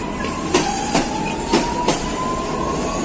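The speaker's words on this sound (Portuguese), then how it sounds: "A série 4000 já tá partindo." Supervia Série 4000 commuter train pulling out of a suburban station, a steady rumble with a sustained wheel or motor tone and four evenly spaced clanks from the cars rolling over rail joints, no talk.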